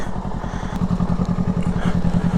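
A motorcycle heading off for a ride idles close by with a steady, loud, throbbing low engine pulse, an even rhythmic putter that runs unbroken throughout.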